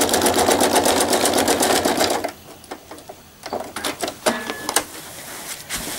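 A sewing machine stitches loose threads into fabric in a loud, rapid run for about two seconds, then gives a few shorter, softer bursts amid handling noise.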